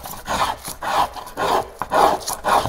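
Wooden paddle surface being shaved flat across the top of its curve, a series of close, rasping scraping strokes in a steady back-and-forth rhythm with no talking.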